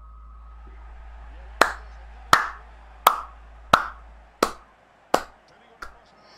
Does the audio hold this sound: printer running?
no